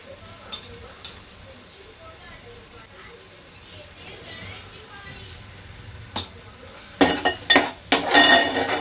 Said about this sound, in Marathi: व्यवस्थित परतून घ्यायचं आहे तेल सुटेपर्यंत.